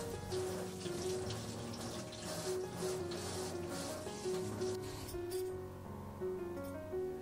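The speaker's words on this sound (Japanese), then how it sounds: "まずは芋についた土を洗い落とします。" Soil is washed off potatoes under a running kitchen tap: a steady splash of water into the sink with shifting, gurgling surges as the potatoes are rubbed and turned, close by and without speech.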